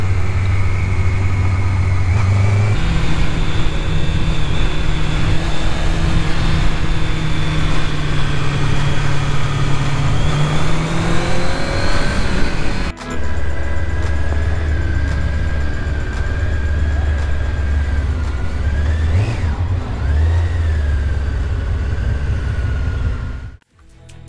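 A loud, steady motorcycle engine drones throughout with shifting pitch, dropping and rising as it slows under engine braking and rear brake through a curve and pulls, then cuts off sharply at the end.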